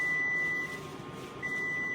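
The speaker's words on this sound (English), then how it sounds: "10-minute timer, we're gonna check to see if they're nice and soft." A kitchen timer set for ten minutes while food simmers covered gives a steady high electronic tone, sounding for about half a second, pausing briefly, then resuming, over quiet room background.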